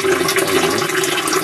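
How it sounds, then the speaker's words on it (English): Water drains steadily in a continuous rushing trickle into a small plastic bottle hung on fishing line within a small aquaponics system, close and alone with no talk. "starts draining down into this little water bottle"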